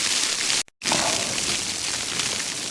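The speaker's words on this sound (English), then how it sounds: "So that rain you can hear is snow" Snow falls on a Durston X-Mid 1P tent at a wild camp, a steady hissing patter on the fabric heard up close, broken by a brief dropout.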